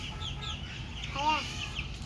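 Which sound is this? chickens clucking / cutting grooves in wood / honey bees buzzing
chickens clucking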